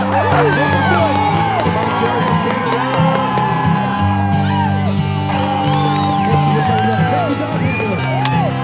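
A large crowd at a sled dog race start cheers and whoops loudly, with shouting and excited voices blending into a continuous roar.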